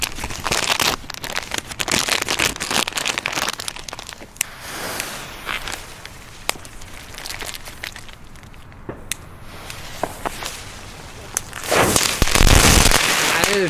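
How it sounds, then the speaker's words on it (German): A dense, continuous crackling of many small Heron crackling ball fireworks popping and sizzling on a street on New Year's Eve, with sharper bangs scattered throughout and a louder burst of crackle near the end. "Jetzt geht's weiter mit den Crackling Balls von Heron."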